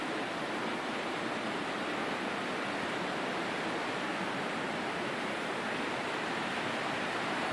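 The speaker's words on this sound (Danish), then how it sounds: "for her er et underjordisk vandfald." An underground waterfall roars inside a large cave, producing a constant, even wash of rushing water that stays steady and moderately distant throughout.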